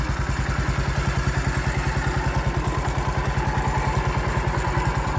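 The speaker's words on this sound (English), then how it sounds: "So there's the bulldozer tractor." A Massey Ferguson MF 14 bulldozer tractor engine running steadily nearby, with a fast, even thumping exhaust pulse and metallic clatter throughout, no talking.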